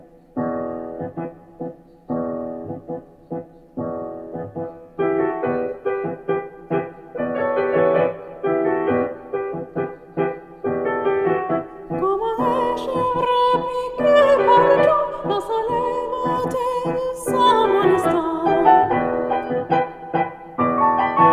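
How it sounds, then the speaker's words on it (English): Camille Saint-Saëns's Mélodie Persienne from La Brise plays in Dorian mode, an instrumental passage that starts sparse and grows fuller and denser, with a brighter upper melody rising over sustained accompaniment, no voices. "Here's an example of Dorian mode by Camille Saint-Saëns from La Brise"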